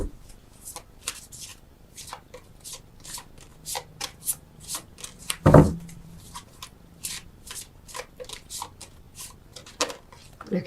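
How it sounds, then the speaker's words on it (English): Tarot cards are shuffled repeatedly in quick riffling bursts, close and fairly quiet, with one louder shuffle midway. "why are you shuffling so long?"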